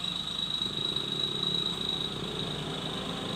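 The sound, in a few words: motorcycle passing by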